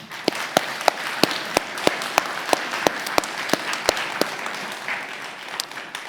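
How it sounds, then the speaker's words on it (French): Congregation at a church baptism ceremony giving a moderate round of applause, sparse distinct claps ringing out steadily over a soft wash of clapping before it thins and fades. "Je crois qu'on peut encore l'applaudir."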